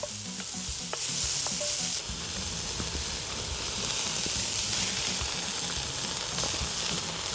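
Ground pork sizzles steadily in a hot pan, a loud, continuous frying hiss with the occasional scrape and clink of stirring, no voices.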